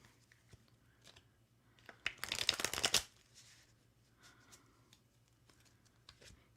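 Tarot cards being shuffled and drawn in a short, dense riffle burst lasting about a second, with light card handling and rustling before and after it, close and fairly quiet.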